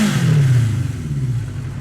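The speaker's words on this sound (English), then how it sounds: "So, let's start revving that engine." An engine revs up loud and close, then its low roar slowly falls away with a slight rattle as the throttle eases off, heard alone.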